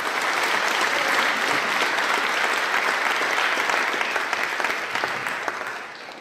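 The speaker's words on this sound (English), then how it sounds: "Round of applause for the panelists here." A conference audience at a Queensland climate tech showcase claps loudly for the panelists, a dense sustained round of applause that fades out toward the end.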